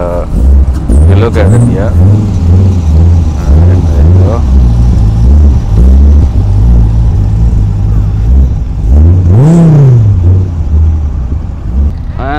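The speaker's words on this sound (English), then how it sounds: "So they're just moving out from here. That's the Dodge Viper." A Dodge Viper sports car pulling out at a Dubai motor show, its engine rumbling loudly with a few rising revs and one sharp swell near the end, under someone talking.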